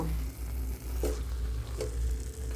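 Pumpkin halwa mixed with grated khoya kheer being stirred in a pan, a steady close sizzle with a few soft scraping strokes of the spoon and no talk.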